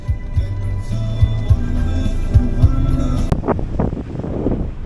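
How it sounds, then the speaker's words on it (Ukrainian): Strong wind buffeting the microphone in heavy low rumbling gusts at Porto Venere, Liguria, with thumping bursts and a shift to breathier gusts near the end. "Дуже дуже вітряно"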